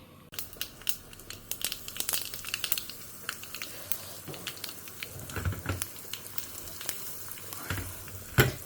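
Crackling, popping sizzle of mustard seeds, urad dal, curry leaves and asafoetida frying in hot coconut oil, with sharp bursts and spits over a steady hiss, fairly close.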